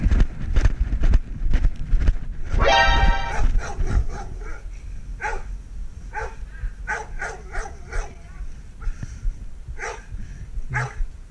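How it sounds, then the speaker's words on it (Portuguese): A pit bull barks repeatedly in a tense traffic stop scene, sharp loud barks scattered across the stretch amid street noise and movement, with a burst of rapid yelps early on. "Meu, ainda bem que esse cachorro tá preso."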